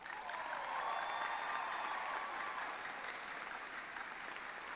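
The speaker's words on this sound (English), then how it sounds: "I believe they deserve a great round of applause." Sustained audience applause at a 2018 college commencement ceremony, a dense wash of many hands clapping steadily for several seconds with a few faint whistles riding above, no speech.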